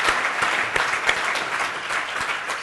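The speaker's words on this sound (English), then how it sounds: "Give her a round of applause." Audience applause at a live presentation: dense, steady clapping from a seated crowd fills about two and a half seconds, with a few sharper claps standing out and no talking over it.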